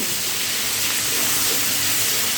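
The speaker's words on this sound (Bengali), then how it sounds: "এবারে তেলের সঙ্গে আদাটা একটু সময় ভেজে নিতে হবে" Grated ginger fries in hot oil while cooking a taro dish, producing a constant, close, broad hissing sizzle without any pauses or speech.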